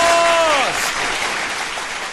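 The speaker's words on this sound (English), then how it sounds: "Big round of applause!" Audience applause fills the room, a dense burst of clapping from a live crowd that starts loud and fades slightly over two seconds, with a voice briefly trailing over the start.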